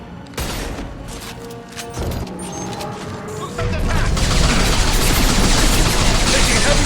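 Sustained gunfire erupts in the video game Mass Effect 2, loud bursts of shots and booms building into a dense, continuous barrage that grows heavier toward the end, with a voice speaking amid the battle.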